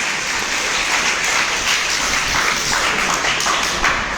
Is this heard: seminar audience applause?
yes